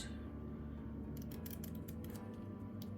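Scissors snipping a small diamond painting code label, a handful of quick close cuts in a row over a faint background hum, no voices.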